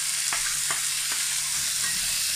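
Mushrooms hit a hot pan of caramelized onions for a burger steak, giving a steady, close sizzle broken by a few soft scrapes of stirring.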